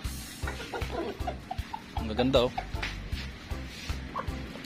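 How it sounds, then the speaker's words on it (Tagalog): A small flock of farm chickens at a goat farm in the Philippine countryside clucks in short, repeated bursts close by, while a person talks over them. "Ayan sila, mga manok."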